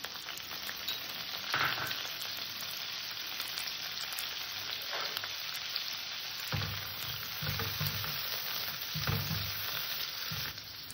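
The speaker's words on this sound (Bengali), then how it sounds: "বিনসটা দেওয়ার পরে আমি বেশ খানিকক্ষণ একটু ভেজে নিয়েছি।" Green beans and carrots frying in a pan for an evening pasta snack, with a continuous close sizzle and occasional stirring scrapes, no talking.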